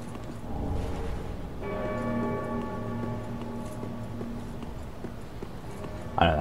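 A bell rings in Dark Souls 3, one struck tone that hangs as a steady, layered hum for several seconds over a low, faint background, quiet and fairly distant, with no voices.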